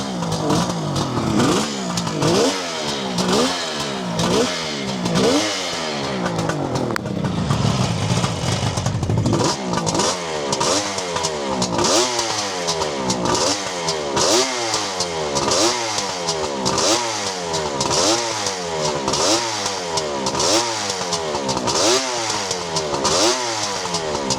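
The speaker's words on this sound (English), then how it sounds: "So just give it a kick and she should fire up." A 1974 Kawasaki H2B 750 Mach IV two-stroke motorcycle, kick-started, then revved over and over, loud and close, with a crackling, rising and falling engine note in repeated blips and no talking.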